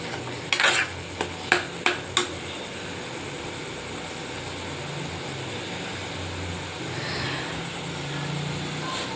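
Masala sautéed in a pan, with a quick burst of four or five utensil scrapes against the pan near the start, then a steady low sizzle that carries on alone.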